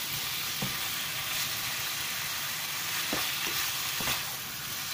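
Minced meat sautéing in a pan, a steady hiss of frying broken by a few sharp knocks and scrapes of the spatula.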